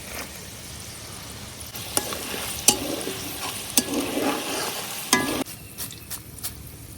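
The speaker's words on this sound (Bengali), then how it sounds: "ডাবলি বুট আর রসুন গুলাও ভাজা হয়ে গেছে।" Chickpeas and garlic sizzle steadily in a hot pan, broken by several sharp scrapes and clinks of a spoon stirring.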